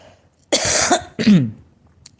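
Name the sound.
cough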